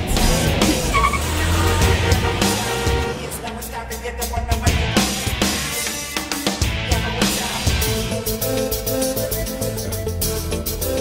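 A car pulls away with screeching, skidding tires amid a loud roaring engine, squeals and revs repeating close up for several seconds over a dense action-film soundtrack.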